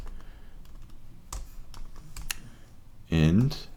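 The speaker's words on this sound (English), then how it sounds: "I cannot type pricing better or great" Typing on a computer keyboard gives scattered, uneven key clicks and taps close by, with a short burst of speech near the end.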